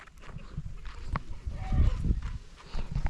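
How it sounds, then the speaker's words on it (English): Goats on a farm shuffle and stir, making scattered short bleats and knocks with a louder cluster midway, close by, and no speech is heard. "Yeah, these are the goats."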